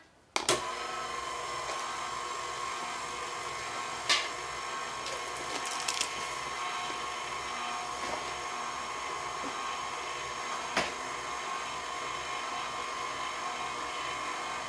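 An electric mixer stirring banana bread batter for homemade chocolate banana bread, a steady continuous whir running throughout, with a few faint clicks and knocks from the bowl.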